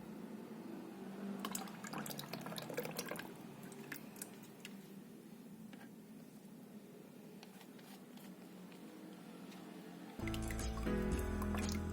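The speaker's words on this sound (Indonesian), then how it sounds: "untuk membuat sabun kita mau campurin lye water dengan minyaknya" Lye water being poured into oil while making milky oats soap, a quiet liquid trickle with faint drips and squishes, followed near the end by a louder, steadier stream of pouring.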